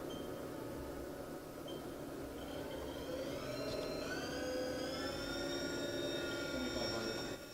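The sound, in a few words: Haas TM 1P vertical machining center spindle running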